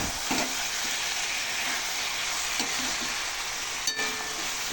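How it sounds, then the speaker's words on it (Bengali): Mutton frying in hot oil gives a steady, dense sizzle and hiss that runs the whole time, with a few soft clicks of stirring on top and no voices. "তো মাটনটা কষানো প্রায় হয়ে গেছে।"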